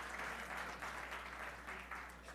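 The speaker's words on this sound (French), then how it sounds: "On l'applaudit" An audience applauds in a room, giving a soft, continuous patter of many hands over a low steady hum, fairly faint and distant.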